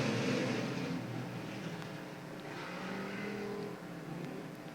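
Pure Stock race cars pulling away at the start of a race at South Texas Speedway, a faint, distant engine roar that swells and fades as the pack moves around the track.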